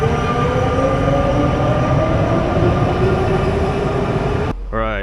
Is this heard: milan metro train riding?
yes